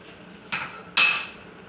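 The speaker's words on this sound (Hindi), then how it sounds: "सबसे पहले डालूँगी मैं ड्राई फ्रूट्स जो मैंने रोस्ट किए थे" Roasted dry fruits dropped into a pan for Eid sheer khorma, two quick rattling clinks of nuts hitting metal, the second louder and followed by a short scatter, with no talk.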